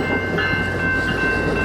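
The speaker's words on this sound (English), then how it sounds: "We get to see a little choo-choo train action right off the bat here." A train rolling by close during a scenic Bay Area bridge-to-bridge e-bike ride, a steady loud rumble of rail cars with a high sustained tone over it, continuous throughout and free of speech.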